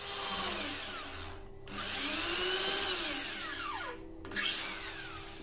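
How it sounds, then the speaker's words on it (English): A power drill bores a screw hole in a wooden harp, whining steadily with pitch that rises and falls as the bit loads and frees. The motor stops briefly twice. It is close up, and no one talks over it. "I drilled my hole."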